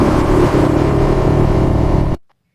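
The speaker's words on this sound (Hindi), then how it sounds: "तभी कालू भेड़िया को एक जोर की दहाड़ सुनाई देती है।" A loud, sustained lion roar plays as a sound effect in an animated Hindi moral story about a wolf, a deep rumbling growl holding steady for about two seconds before cutting off abruptly.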